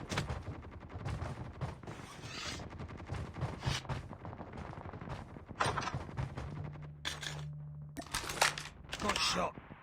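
Gunfire in a shooter video game, with rapid bursts and single shots, mechanical clicks and reload sounds, bright sharp cracks toward the end, and game voice callouts mixed in.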